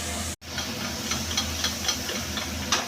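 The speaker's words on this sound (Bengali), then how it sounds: "কড়াইয়ে তেল দিয়ে পেঁয়াজটা ভাজা করছি" Chopped onions frying in oil in a wok for chilli paneer, a continuous loud sizzling hiss with faint periodic scraping ticks as they are stirred.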